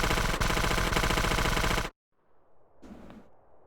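AK rifle gunfire in GTA San Andreas: a loud, rapid automatic burst crackles for about two seconds, then cuts off into near silence with a faint clatter.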